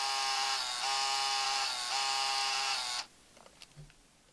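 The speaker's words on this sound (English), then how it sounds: "there is the Game Boy printer, so if you want to print the pictures" Game Boy printer running as it prints pictures: a steady mechanical buzz with regular brief dips in pitch for about three seconds, then stopping abruptly, followed by faint handling clicks.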